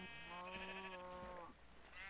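Minecraft sheep bleating in the video game, a close, loud, quavering bleat held for about a second and a half, followed by a shorter second bleat, with no talking.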